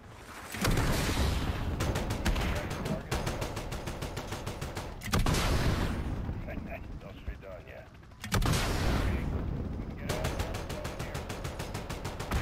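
Rockets and gunfire in Call of Duty Modern Warfare, loud rapid volleys of shots and blasts in long bursts separated by brief lulls, dense and close.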